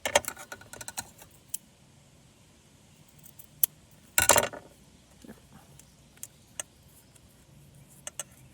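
Sticky tape is handled while a junk journal is assembled, with sparse close clicks and taps and one brief loud rip of tape being pulled or torn from the roll.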